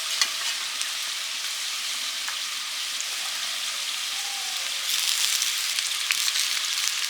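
Drumstick flowers go into a pan with boiled potatoes seasoned with salt and turmeric, and a dense close sizzle with stirring scrapes grows louder toward the end.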